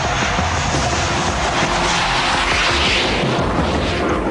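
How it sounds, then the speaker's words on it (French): A YF-23 prototype jet fighter flying over the Mojave desert gives a loud, steady, broadband jet engine roar that holds constant throughout, with no speech. "Il pilote le prototype concurrent, le YF-23."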